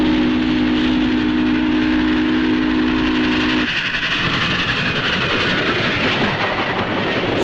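A loud steam locomotive rumbles close by, a steady whistle tone sounding over the chugging before cutting off into rushing mechanical noise.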